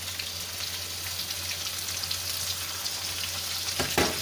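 Cumin seeds frying in a pan make a steady, close crackling sizzle with scattered small pops and a faint low hum underneath. One sharper crackle comes near the end.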